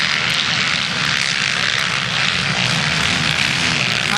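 A Kawasaki MX1 motocross bike races at the Murray Bridge national round. Its engine gives a loud, close, continuous roar that holds steady throughout with no pauses.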